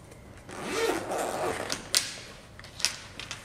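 The zipper on a cosmetic bag is run open or closed in a few short, soft rasping pulls, with light clicks and rustles close by in a quiet room.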